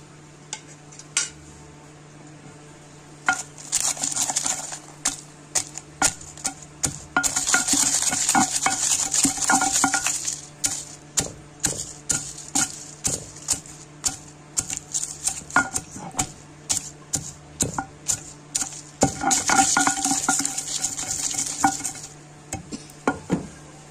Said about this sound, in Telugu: ఉప్పు వేసి దంచుకుందాం